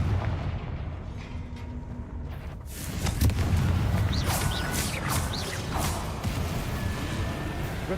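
Fiery blasting-spell explosions in Hogwarts Legacy, with a steady rumbling roar of combat that swells after a few seconds into dense, overlapping bursts and crackles, loud and continuous, with no voices.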